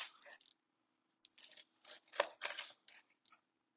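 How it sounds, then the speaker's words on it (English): A knife cuts corn kernels off the cob on a cutting board in a home kitchen, giving short scraping and chopping bursts in an irregular rhythm, close and fairly quiet. "You're going to cut up the corn."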